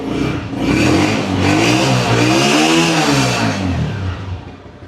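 2025 Crown CR 125 motorcycle engine, close and loud, revving up and back down in a smooth rising and falling sweep before easing into a steady idle.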